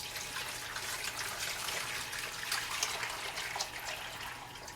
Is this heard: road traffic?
no